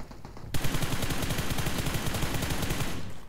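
Rapid automatic gunfire in the mobile battle-royale game PUBG Mobile erupts after a brief quiet start, a steady stream of loud close shots lasting about two and a half seconds before cutting off.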